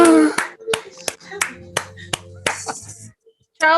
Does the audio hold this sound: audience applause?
yes